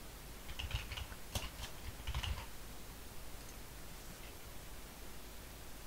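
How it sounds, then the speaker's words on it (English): A password is typed on a computer keyboard, a few quiet scattered key clicks in short bunches over a low steady hiss, fading into faint background noise with no voices. "I have to type the current one again, and type a new one."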